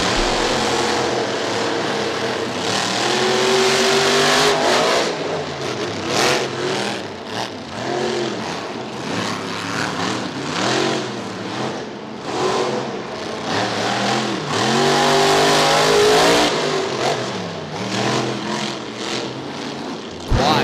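Monster truck engines roar and rev continuously during a bracket race at Bristol Motor Speedway, loud and close, with repeated throttle surges rising and falling over a dense, broadband engine drone.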